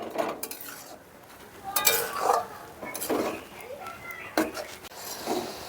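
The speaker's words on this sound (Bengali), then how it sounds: "নাড়াচাড়া করে নারকেল আর গুড়টাকে পাক দিতে হবে" Coconut and jaggery being stirred in a pan for narkel naru, a sweet made for Durga Puja, with scattered scraping and clinking strokes at a moderate level and faint background noise.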